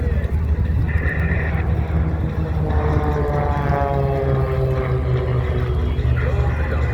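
Propeller aircraft fly in formation at an airshow, giving a steady, loud engine drone with shifting tones as the planes pass, under continuous crowd and announcer ambience.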